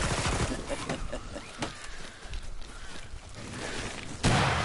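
In Killing Floor 2, scattered gunfire rattles under shouting voices before a flashbang grenade goes off with a sudden loud, sharp bang near the end.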